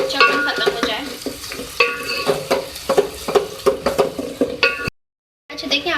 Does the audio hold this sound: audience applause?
no